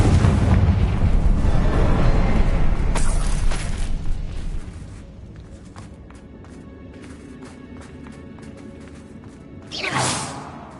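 A Confringo fire spell in the video game Hogwarts Legacy bursts as a loud, broad explosive boom that fades into a softer rumble, with a second whooshing burst near the end.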